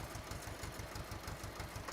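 A tractor engine in the video game Farming Simulator 15 idles steadily, a rhythmic low chugging that stays constant and fairly close throughout.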